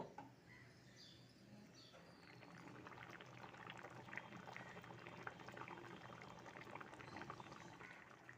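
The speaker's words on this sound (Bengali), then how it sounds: "এবার কিছুক্ষণ ফুটতে দেব" A fish curry broth made with ground sesame, fried lentil dumplings and fried potatoes boils steadily in the pot. Its bubbling grows fuller after the first couple of seconds, and faint chirps sound in the background.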